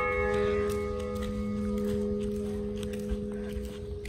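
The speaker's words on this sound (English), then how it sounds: "That's why you're hearing that bell ring." A bell rings at noon in a town with shuttered shops, its sustained tones hanging over faint street noise and scattered footsteps, with no voices nearby.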